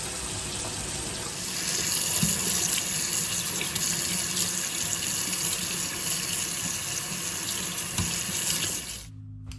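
Kitchen tap pouring a steady, close stream of water into a sink while paintbrushes are washed, continuous and loud for several seconds before cutting off abruptly near the end.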